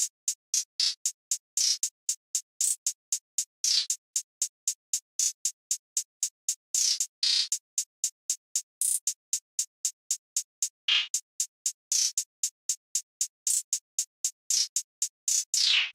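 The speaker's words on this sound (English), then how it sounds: "this is how the finished hi-hat pattern is sounding like." A programmed trap hi-hat pattern with rolls placed into the beat: a steady stream of crisp, bright ticks that bunch into quick rolls at intervals, dry and alone with no other drums.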